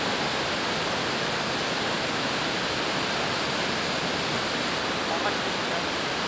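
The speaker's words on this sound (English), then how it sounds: "So we're now here at the waterfall," Yuan Waterfall in Taiwan pours in a steady, dense roar of falling water that stays constant and fairly loud throughout, with no other sounds standing out.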